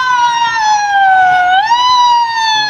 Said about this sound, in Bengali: খেলাধুলার সাথে অ্যাম্বুলেন্সের হুইসেলও বাজাবো।